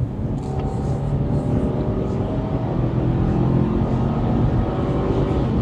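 A low, steady boxer-engine drone from a 2025 Subaru Outback fills the clip, rising slightly in pitch as the car gains speed, with continuous road and wind rumble.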